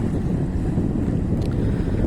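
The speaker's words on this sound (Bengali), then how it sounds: "এই যে একটা ডিঙ্গি আসতেছে, স্পিড বোট" A speedboat's low engine rumble blends with heavy wind buffeting the microphone, a steady, dense roar out on the open sea in the Maldives.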